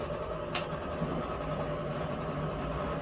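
A rock tumbler polishing rocks gives a steady low mechanical rumble and hum that drones on continuously, with a brief rattling click partway through.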